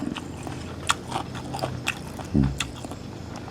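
Someone bites into springy beef tendon meatballs up close, producing soft squishy chewing sounds punctuated by a few sharper bites and one louder crunch.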